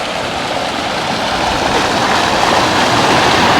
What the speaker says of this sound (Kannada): ನೋಡಿ ಹೇಗೆ ಹರಿದು ಹೋಗ್ತಾ ಇದ್ದಾಳೆ ತುಂಗೆ